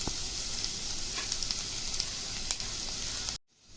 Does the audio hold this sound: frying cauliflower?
yes